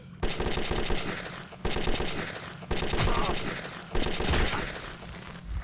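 Video game Metro 2033 gunfire: loud, close automatic bursts of rapid shots in three or four long volleys separated by brief pauses.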